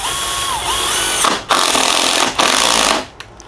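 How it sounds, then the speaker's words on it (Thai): A power screwdriver fitted with a hex socket bit drives a hex-head screw in three loud, close bursts of whirring and grinding motor noise, separated by brief pauses. "ต่อไปเรามาลองยิงสกรูตัวนี้นะครับ"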